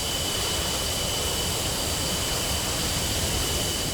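A jet engine running steadily in the DCS World flight simulator, a loud continuous roaring whoosh with a thin high whine on top, unchanging and close throughout.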